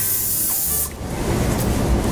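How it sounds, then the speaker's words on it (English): Oribe Soft Lacquer heat styling spray hisses from the can onto hair in a salon, one loud close burst that cuts off sharply and leaves steady background noise, with no talking. "spray the hairs."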